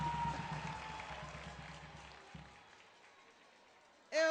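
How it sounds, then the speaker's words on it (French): Clapping from an audience at a televised holiday show finale starts full and steady, then fades away over a couple of seconds into quiet before a brief new sound enters at the end. "Applaudissez pour vous-même."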